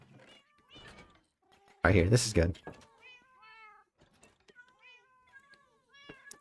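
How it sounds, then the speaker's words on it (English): Many Minecraft cats meow in short, high, scattered calls, mostly faint, under someone talking and a brief louder burst of voice. "This is a lot of cats, isn't it?"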